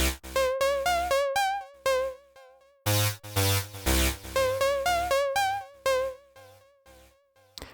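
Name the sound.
pattern of two sounds, completely dry without reverb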